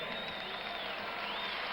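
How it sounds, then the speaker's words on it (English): Basketball arena crowd at a 1978 Hawks at Cavaliers game applauding steadily as a player leaves the court, a dense wash of clapping filling the space with a broadcast voice faintly underneath. "He gets a fine and well-deserved round of applause."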